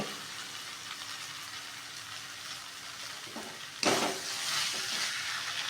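Onion and potato sautéing in a pan with a gentle sizzle and spatula scrapes, then a sudden louder hiss partway through, close-up with no speech.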